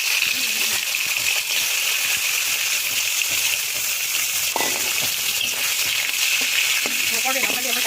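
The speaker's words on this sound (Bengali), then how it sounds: "ইলিশ মাছের মাথা ভাজা" Hilsa fish heads fry in oil in a wok, giving a loud, dense, continuous sizzle with a few faint clinks and stirring noises scattered through it.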